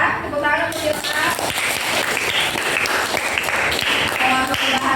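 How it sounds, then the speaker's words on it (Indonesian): A classroom breaks into applause for a student, with scattered clapping building into steady, mid-level claps while a voice speaks briefly at the start. "Tepuk tangan untuk Ilham."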